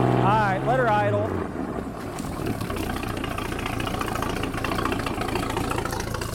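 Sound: 1946 Century Sea Maid boat engine idling

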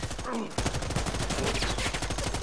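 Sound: minigun firing in the video game Predator: Hunting Grounds

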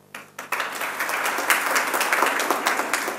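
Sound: audience applause at welcome speech

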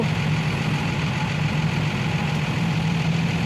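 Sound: Sany SY135C excavator engine idling

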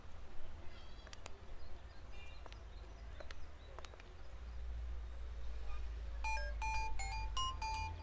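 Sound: mobile phone ringtone

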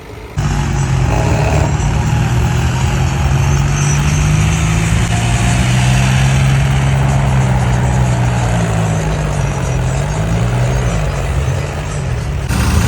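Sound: tractor engines working on a flood embankment

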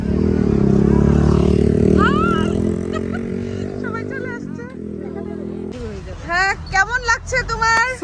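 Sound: motorcycle riding on a road

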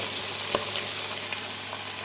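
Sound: curry leaves frying in oil

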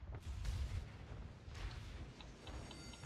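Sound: warship secondary gun batteries firing, World of Warships video game

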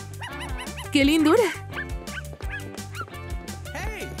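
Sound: puppy barking and yipping

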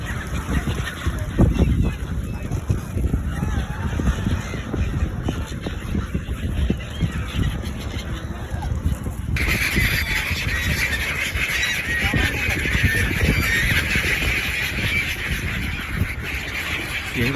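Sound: waterfowl honking, sounding like ducks

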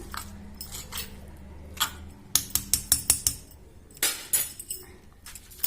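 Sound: mixing raw lime chutney ingredients in a stone mortar

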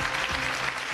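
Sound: audience applause on TV news

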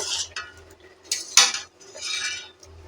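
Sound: covering pot of lentils with lid

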